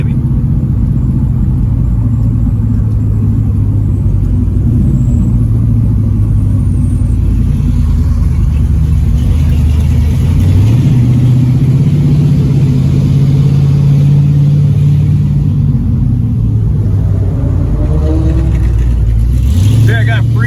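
A 1969 Dodge Daytona with a 426 Hemi V8 drives through an underpass, its loud, deep engine rumbling continuously and rising in pitch as it revs and accelerates, close to the listener.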